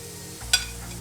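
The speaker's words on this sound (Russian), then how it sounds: "Когда сковородка нагрелась, выкладываем овощи и просто подпекаем." Vegetables hitting a hot dry frying pan, a brief sizzle with a single stirring scrape, short and close with no voices.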